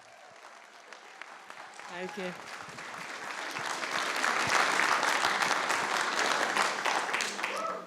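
An audience applauds a speaker, the clapping swelling from sparse to a full, sustained round that peaks midway and holds to the end, with a brief spoken thanks early on.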